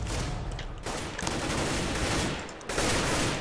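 AK rifle fire in Counter-Strike: Global Offensive played on a MacBook Pro, rapid bursts of shots with short gaps between volleys, loud and close throughout.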